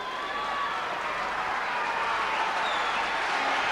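Arena crowd at a 1988 British ice hockey match between Nottingham and Murrayfield, a steady broad roar of cheering and scattered clapping rising slightly over the few seconds, continuous and fairly distant with no clear talk.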